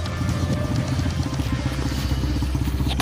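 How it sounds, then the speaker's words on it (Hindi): A motorcycle engine labours up a slope near a dam, throbbing loudly and steadily at close range with a rough, pulsing rhythm throughout. "अब इनका चैलेंज है, इनको बाइक चढ़ानी ऊपर।"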